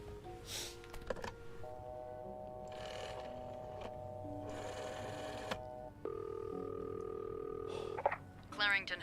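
A telephone in the video game This Bed We Made gives off a run of synthetic dial tones and ringing beeps, held tones switching in pitch, with soft clicks and a brief voice in between.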